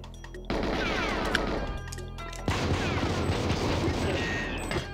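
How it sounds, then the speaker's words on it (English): Dense, continuous gunfire from the N64 game GoldenEye 007, loud rattling bursts with clipped low-end thumps and a sharp jump in intensity midway, mixed with game noise and no clear voices. "Who's shooting at me?"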